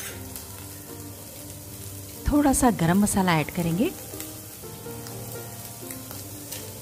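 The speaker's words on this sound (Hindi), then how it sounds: "1 से 2 मिनट बिना कवर किए ऐसे ही भूनेंगे" Spiny gourd sabzi fries uncovered in a pan with a steady, soft sizzle that runs throughout, while a person talks briefly in the middle over the frying.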